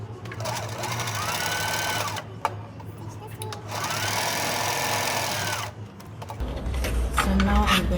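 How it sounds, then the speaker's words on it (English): A sewing machine stitches scrap fabric for a bow cover in a steady, whirring run, pauses briefly, then stitches on, ending with a few soft clicks and a low hum. "So I'm going to put this on the machine and just stitch"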